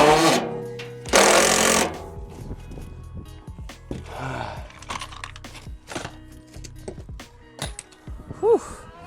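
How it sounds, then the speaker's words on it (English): A power drill drives into a wooden garden shed in short bursts, loud whirring spurts separated by pauses, with clatter, handling noises and a brief exhale in between. "I think I'm gonna actually drill it into this structure, into the shed"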